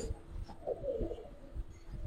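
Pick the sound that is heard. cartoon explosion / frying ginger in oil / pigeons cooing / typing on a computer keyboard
pigeons cooing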